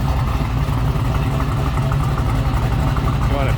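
A 1966 Chevrolet Nova two-door with a fuel-injected engine idles close by, a loud, steady, throbbing rumble that holds even throughout.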